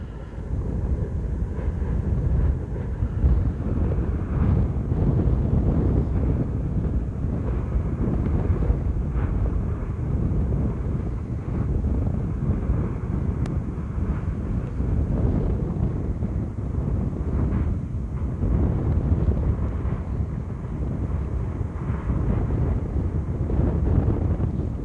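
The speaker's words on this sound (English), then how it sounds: "maybe you will hear the wind, more wind, because it's a bit windy" Strong wind buffets the microphone beside a volcano's lava cave at Litlihru, a constant loud low rumble with gusting swells and no voices.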